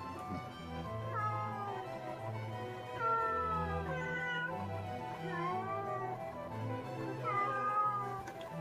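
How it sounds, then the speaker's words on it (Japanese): Cats at a rescue shelter housing dozens of cats in Japan give repeated drawn-out meows, several calls overlapping against a steady low background hum. "猫。"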